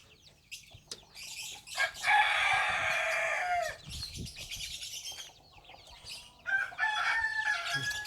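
A native country rooster crows loudly nearby in a long drawn-out call, followed by a second crow, with other birds chirping and hens clucking around it.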